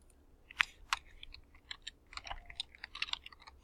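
Brief run of computer keyboard typing while entering a file name during a quiz setup on a desktop, a few sharp clicks then a quicker irregular patter of keystrokes, close and fairly quiet, no talking.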